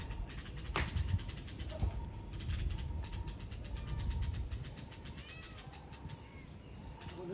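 A cat meows several times at moderate volume among chirping birds outdoors, with a steady low rumble running underneath the whole time.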